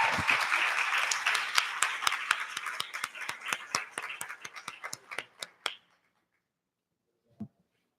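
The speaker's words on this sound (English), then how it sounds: "So can we give another round of applause for our panel?" A symposium panel on racial equity receives audience applause: dense clapping from a crowd at the start thins over several seconds into scattered individual claps. It stops near six seconds, and one faint thump follows shortly after.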